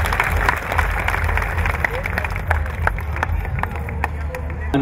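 Crowd applause greeting artists at a Chhattisgarh state festival folk stage program, a dense continuous clapping from a large audience mixed with hubbub, running steadily throughout.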